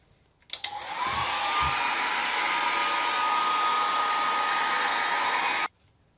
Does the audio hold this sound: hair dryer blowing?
yes